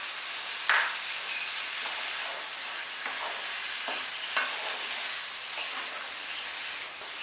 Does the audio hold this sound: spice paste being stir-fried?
yes